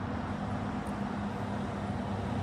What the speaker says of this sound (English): Garbage trucks heading off to the Wednesday route again.